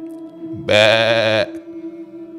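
A goat bleats once close by in a quiet rural village setting, a single loud, wavering cry lasting under a second against faint background noise.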